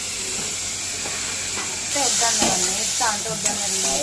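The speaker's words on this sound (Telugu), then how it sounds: "ఫ్రై చేస్తున్నారండి." Chicken frying in a pan for palao, a steady hiss and sizzle that grows louder midway, with metallic stirring scrapes and clinks, close up and without talking.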